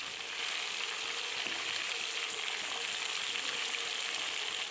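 Chicken leg pieces deep fry in hot oil for chicken 65, giving a steady, dense, close sizzle and crackle with no pauses and no talking.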